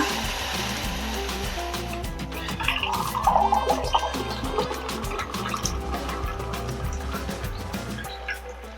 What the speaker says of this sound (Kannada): ನೋಡಿ, ನೀರು ಕುದಿತಾ ಉಂಟು.